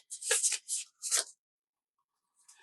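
Tarot cards being shuffled by hand, a few quick papery riffling bursts up close, then a pause and a faint rustle, with no talk.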